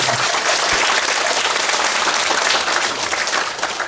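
Steady applause from an audience fills the hall during a Buddhist eye-opening consecration ceremony, dense clapping sustained throughout at an even level, with no speech over it.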